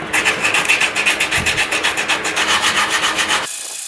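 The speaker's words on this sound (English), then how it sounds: "I think it needs more sanding on the cheeks here." Steady rhythmic rasping of sandpaper scraping back and forth over the hard shell of a pancake welding hood, close and continuous, stopping abruptly near the end.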